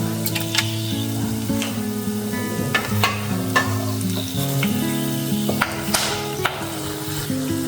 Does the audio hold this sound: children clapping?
no